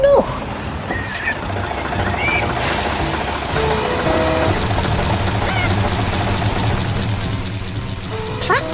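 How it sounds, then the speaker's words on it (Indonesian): A cartoon earth auger drives its spiral blade into the soil with a loud, continuous mechanical engine rumble that holds steady without a break. "mesin gali itu sedang bekerja keras, memasukkan pisau spiral ke dalam tanah dengan semangat penuh."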